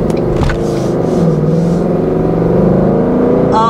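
A 460 hp Ford Mustang GT engine revs up and holds a deep, loud, rising roar close by, with a brief blip at the start, alone with no talking.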